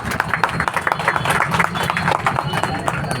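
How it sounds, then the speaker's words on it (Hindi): A crowd applauding at an open-air political rally in Nagpur, India, with dense, rapid, uneven clapping that is loud and close throughout, mixed with crowd noise and possible voices. "मैं विनंती करता हूँ सबने ताली बजाकर उनका स्वागत करने।"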